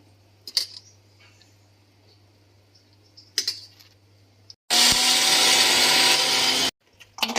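Soaked urad dal for dahi vada being ground in an electric grinder: scattered clinks and knocks, then a loud, steady motor whir for about two seconds that stops abruptly, followed by more handling clatter.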